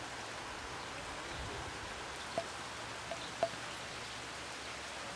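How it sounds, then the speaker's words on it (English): Light rain falls on a vegetable garden as a soft, even hiss of drops, fairly quiet and steady, with a couple of faint taps standing out. "Oh, it's raining."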